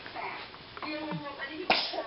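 A baby sneezes once, a short sharp burst near the end, amid soft babbling and household noise while eating and playing with toys.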